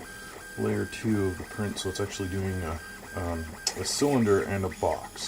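A 3D printer lays down the second layer of a PLA print, its stepper motors making quick, rising and falling whines in short bursts as it moves fast. Someone talks over it.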